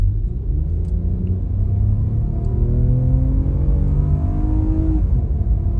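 Full-throttle acceleration of a 2022 Lexus RX350 with its 2GR engine, a loud, steady low rumble with engine tones rising through the revs, heard from inside the car with no talk.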